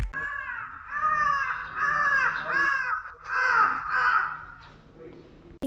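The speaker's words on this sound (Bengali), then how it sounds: "ওই যে ওই দেখো একটা পাখি আসছে" A crow caws about five times in a row, harsh and fairly close, at Zuluk in the misty mountains of Sikkim, against otherwise quiet surroundings.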